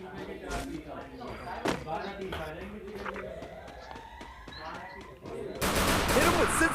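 Gunfire in the video game Free Fire: repeated sharp shots and short bursts crack through busy game sounds, ending in a loud, sustained wash of noise.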